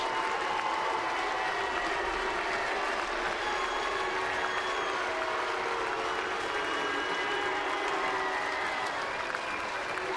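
Royals fans cheer and applaud in a baseball stadium after Mike Moustakas's three-run home run, a dense, steady roar of crowd noise that holds for the whole stretch.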